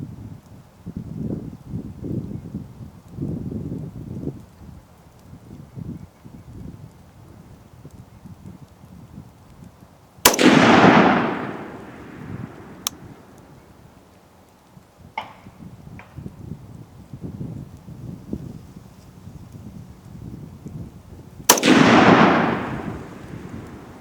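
Two loud, sharp DPMS Sportical .308 rifle shots fired outdoors, widely spaced, each followed by a long rolling echo, with quieter handling noise and faint clicks between.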